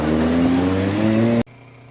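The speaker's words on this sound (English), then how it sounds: "So off they go on the green flag lap. So 39 cars on this grid." A loud, close roar of 39 race cars revving together as they set off on the formation lap at Brands Hatch GP, cutting off abruptly near the end to a quieter background hum.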